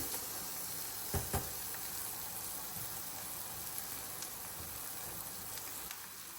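A few fenugreek seeds fry in hot oil for a Kerala-style pearl spot fish dish, giving a faint, steady sizzle with a couple of small pops and clinks early on.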